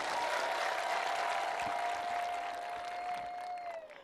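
A congregation applauds during worship, a steady, fairly distant patter of many hands clapping together, with a sustained tone running over it before fading at the end.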